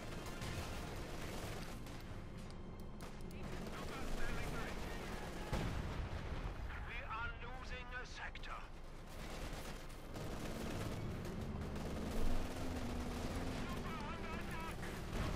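Machine gun bursts from a bunker in a Company of Heroes 2 battle, including .50 caliber fire, rattle repeatedly amid artillery booms and dense battle noise, with occasional voices underneath.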